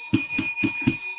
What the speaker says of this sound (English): Let's ring the bell.